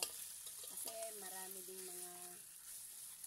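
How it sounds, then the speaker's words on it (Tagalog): Pork fries in a pan for a tofu and bean sprout dish. A steady, close hiss of sizzling runs throughout, and a brief tonal hum rises over it partway through. "fry mo na natin yung pork hanggang sa maluto"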